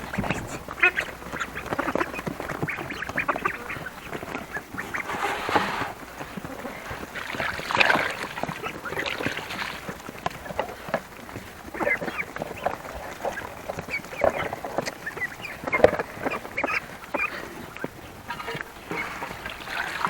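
Ducks quack steadily at close range in a rural farmyard, a dense, continuous chatter of quacks mixed with wet slurping and dabbling noises as they feed, with no one speaking.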